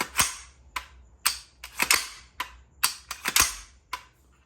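Sharp mechanical clicks and snaps from an S&W Response carbine being put through a safety and trigger function check, about a dozen close, crisp metallic clacks spaced irregularly with no voice.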